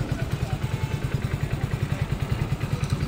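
A 2022 Hero Splendor Plus Xtec motorcycle idles up close, its small engine thumping in a quick, even putter with a slightly bassy tone, steady throughout.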